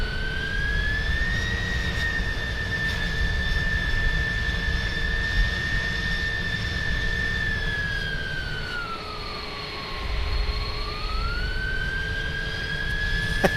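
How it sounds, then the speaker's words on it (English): An iniBuilds A310 airliner landing in Microsoft Flight Simulator with its thrust reversers deployed, a loud steady jet engine roar with a high whine that dips in pitch and then rises again. "Now the reversers are working."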